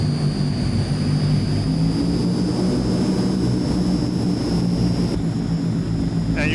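Transall C160 turboprop engines run up to takeoff power in a flight simulator, a steady, loud propeller drone with a thin high whine held throughout and no talk.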